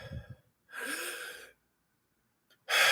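A person draws one long, deep breath in and then holds it, leaving near silence. A short breathy sound comes just before the inhale, and another sharp breath starts at the very end. All of it is close and fairly quiet.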